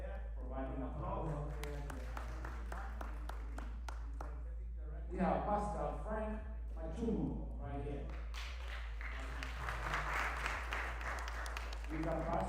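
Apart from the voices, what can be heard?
audience applause for introduced guests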